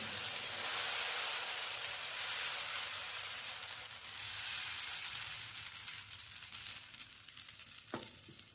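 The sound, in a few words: moong dal dosa batter sizzling on a hot pan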